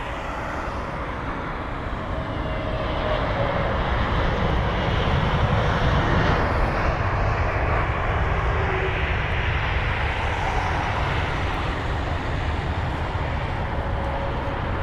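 Airbus A320neo airliner landing at London Heathrow after a flight from Reykjavik, its engines a broad, steady roar that holds loud and constant throughout with no talk.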